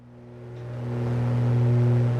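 An auctioned Aerostar 600's faulty piston engine in MSFS 2024 has its RPM brought back, a steady tonal hum and drone that swells gradually louder and holds, with no talking.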